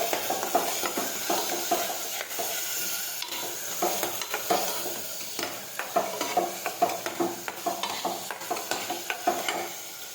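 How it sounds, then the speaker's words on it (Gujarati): Potato curry being sautéed in a pan, a continuous sizzle broken by repeated scraping stirs of a spoon, a steady rhythm of soft strokes and clatters over about ten seconds, no talking. "ફરી પાછું આપણે સાતળી દઈશું"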